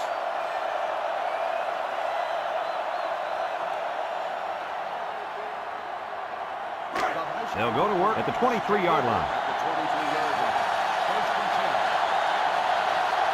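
Steady stadium crowd roar from the NCAA Football 2005 video game during a Michigan versus Penn State matchup, loud and continuous throughout, with a commentator speaking over it partway through.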